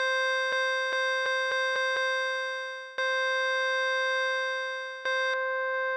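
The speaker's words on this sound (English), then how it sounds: "first change this to a wavetable synth" A sustained wavetable synthesizer tone on a Polyend Tracker holds a steady pitch, rich in bright harmonics, with several short note retriggers and clicks across its length.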